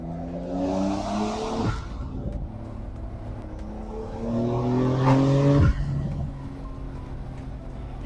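Porsche 911 S Cabriolet with a 3-liter turbocharged engine revving through two rising pulls, each cut by a sharp gear change, with tire squeal and wind noise, loud and close with no talk.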